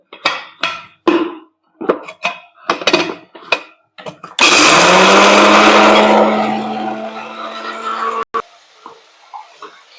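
A mixer grinder grinds masala finely for an eggplant curry, a loud steady whirring burst that runs for about four seconds, then winds down and fades, with talking before it.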